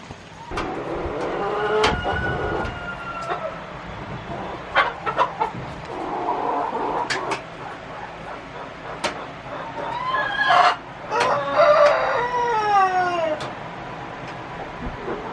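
Backyard chickens, with a rooster among them, cluck and call in short bursts close by, the squawks rising in a few louder clusters, with a cat-like meowing call mixed in and no talk.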